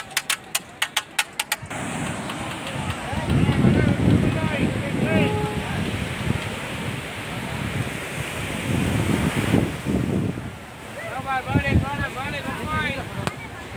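Sea waves crash and surge at Marina Beach in India with a loud, rolling roar that swells and recedes, while voices and other beach sounds are mixed in underneath.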